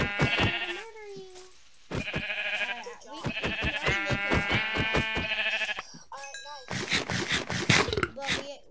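Minecraft sheep bleating repeatedly, a run of loud, close, wavering baas in several bursts, with game clicks and hits mixed in toward the end.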